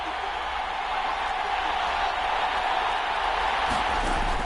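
Stadium crowd noise from an American football video game: a steady, loud roar of a home crowd filling the whole moment, broad and constant with no breaks, and no distinct voices standing out.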